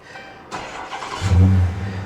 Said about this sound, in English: Fires up, sounds decent. Exhaust sounds good.